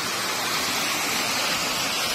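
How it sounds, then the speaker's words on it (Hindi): A waterfall at Gajapati roars with a steady, dense rush of falling water, loud and close, continuing unbroken with no voices. "ये गोटे झरणा ये भी बहुत सुंदर झरणा"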